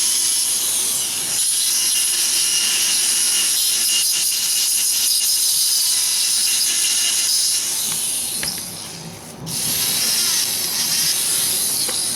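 A continuous high-pitched whirring hiss of a small rotary tool with a rubber sanding wheel polishing a complete denture, steady and close, briefly dipping near the end.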